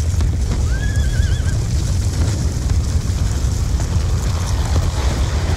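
A horse in the Black Ops 2 combat mission Old Wounds gives a short rising whinny early on, heard over a steady roar of wind and low rumbling battle ambience.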